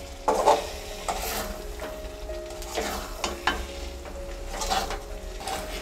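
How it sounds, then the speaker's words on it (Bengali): Potato curry (aloo dum) being stirred gently with a metal spatula in a pan, scraping strokes recurring every second or so over a steady low sizzle, close and moderately loud with no talking. "এবার খুন্তির সাহায্যে আলতো হাতে একটু নেড়ে চেড়ে মিশিয়ে নেব"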